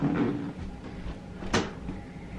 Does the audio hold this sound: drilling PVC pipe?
no